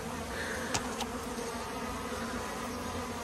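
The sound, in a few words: honeybees buzzing around hive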